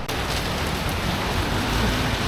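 Heavy rain pours down in Phnom Penh, Cambodia, a dense, loud, unbroken roar of downpour filling the whole clip with no voices.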